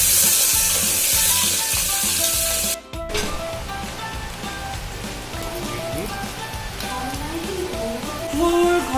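Cinnamon, cumin and cardamom frying in very hot oil, a loud steady sizzle with crackling pops, briefly cut off near the three-second mark, then continuing close with bright spitting bursts.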